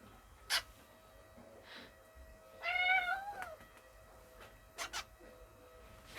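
A cat meows once in a quiet greenhouse, a short rising-and-falling cry close by, with faint rustles and a couple of small clicks around it.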